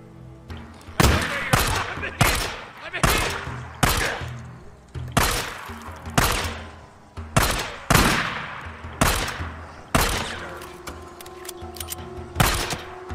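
Repeated gunfire in the video game Days Gone, roughly a dozen loud sharp shots spaced about a second apart, each with a booming decay, in a steady rhythm with faint game sounds between.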